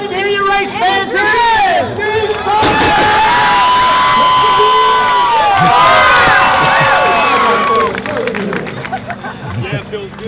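Race fans cheer and shout together at a speedway, a loud sustained crowd roar with whoops and scattered clapping, swelling in the middle and easing off toward the end.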